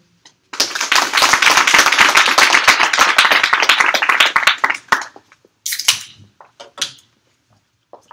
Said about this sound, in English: So just a warm round of applause for Factual.